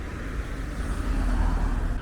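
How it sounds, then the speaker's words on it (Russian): A car driving past on a street in old Tbilisi, a steady engine and tyre rumble over city traffic noise that swells slightly as it nears, moderately loud, with no speech. "грязная машина проехала"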